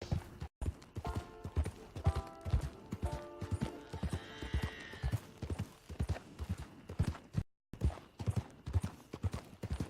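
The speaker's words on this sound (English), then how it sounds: "Just riding on my own horse." Rhythmic hoofbeats of a ridden horse in Red Dead Redemption 2 Online, even and close, with a creaking, whinny-like tonal sound midway and two brief dropouts.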